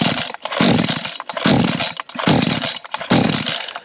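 A chainsaw clearing brush and timber for an enduro and pit bike track revs loudly in four surging bursts with brief dips between, close and dominant with no talk.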